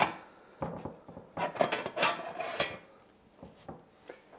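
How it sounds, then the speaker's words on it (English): A metal lid slides onto a pain de mie sandwich bread pan. Several scraping clinks come one after another, with a denser cluster in the middle and a few lighter taps near the end. No one speaks. "Slide the lid on top."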